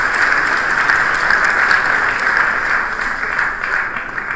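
Audience applause at a senior-level international meeting rings out as a continuous, fairly loud wash of many hands clapping, steady throughout with no voices on top.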